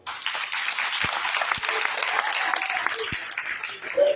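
Church congregation applauding during a Sunday worship service, a steady wash of clapping throughout with a few sharper claps standing out, fairly close and continuous for several seconds.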